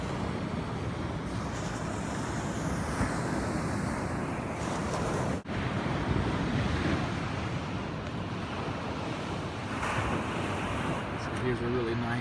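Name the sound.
waves on a rock-strewn sandy beach at Ocean Shores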